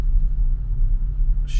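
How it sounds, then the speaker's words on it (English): Car driving in slow morning traffic heading into Canterbury, a loud steady low engine and road rumble from inside the cabin, continuous throughout with a brief brighter noise at the end. "shitty traffic this time of morning"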